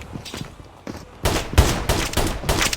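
Gunfire in the mobile game Call of Duty Mobile, sparse distant shots at first, then loud rapid bursts of close firing.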